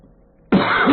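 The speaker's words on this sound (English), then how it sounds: "I'm sorry, I'm coughing" A single harsh cough bursts out abruptly after a moment of near silence, close and fairly loud.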